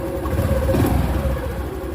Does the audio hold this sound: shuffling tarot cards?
no